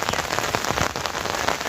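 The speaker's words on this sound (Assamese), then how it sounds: "যি হিচাপত বৰষুণ দিছে" Heavy rain falls steadily in Assam as a dense, hissing patter of drops striking surfaces, loud and continuous, with no voices.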